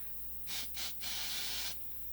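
Aerosol makeup spray hissing in three bursts, two short puffs then a longer sustained spray of about a second, close and fairly quiet against a faint background hum.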